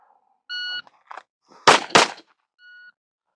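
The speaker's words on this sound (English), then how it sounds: "On the beep, we will take 1 step back, come out of the holster" A shot timer gives a short electronic beep, then two sharp handgun shots ring out about a third of a second apart from the holster, with a faint second beep trailing after them.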